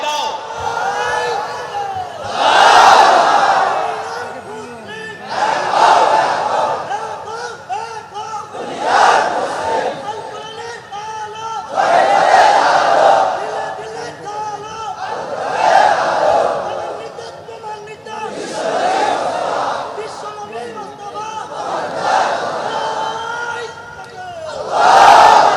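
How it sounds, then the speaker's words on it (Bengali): A large crowd at a religious gathering loudly chanting takbir, roaring voices rising and falling in about eight repeated waves, each shout swelling and fading, filling the space. "জোরে তাকবীর দাও।"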